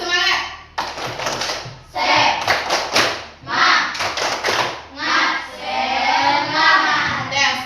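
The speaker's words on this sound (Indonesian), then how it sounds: "Ayo tepuk semangat." A classroom of Indonesian children claps a quick rhythmic pattern in bursts, mixed with loud shouted chanting voices.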